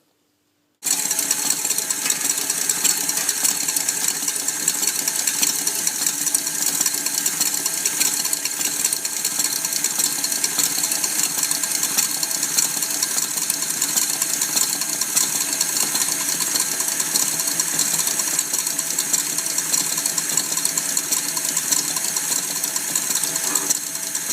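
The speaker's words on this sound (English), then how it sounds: "We'll beat that around for about 10 minutes until it's a really nice fluffy consistency and is nice and thick" An electric mixer beats meringue icing made with sugar syrup, starting after a brief silence and then holding a steady, loud mechanical whir with a faint rattle for the rest of the clip.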